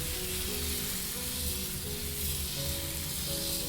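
Dosa batter sizzles loudly and steadily on a very hot tawa, a dense close frying hiss with a low background hum and no talking.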